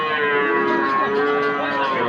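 A Sahiwal bull calf at a livestock market gives one loud, sustained low moo that fills the moment close by.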